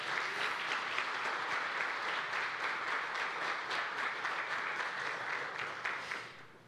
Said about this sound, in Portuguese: Gostaria que a igreja aplaudisse o Senhor por essas vidas.